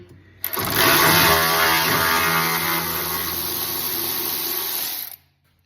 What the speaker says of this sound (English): because I have the ratcheting wrench, I like to use it, obviously.